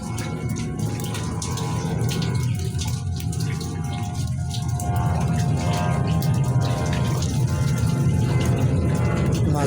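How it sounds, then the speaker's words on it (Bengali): Rain falling outdoors where people are catching fish, a steady hissing wash of drops that grows slightly denser toward the end, with no talking. "বৃষ্টি নামছে।"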